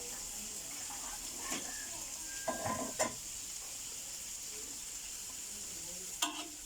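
Shrimp stir-frying with cooked Thai chili paste (nam prik pao), a steady broadband sizzle broken by a few sharp scrapes and clatters of a spatula in the pan, moderately close, with no voices.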